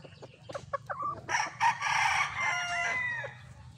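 A Picom gamefowl rooster from Mount Banahaw gives one full crow, rising after a few clucks and holding a strained, quavering call for nearly two seconds near the listener, with a low hum underneath.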